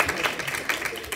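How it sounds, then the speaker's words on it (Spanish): A lecture-hall class gives a short burst of applause for their class delegate, a soft, steady patter of many hands at a modest distance. "Un aplauso para el delegado"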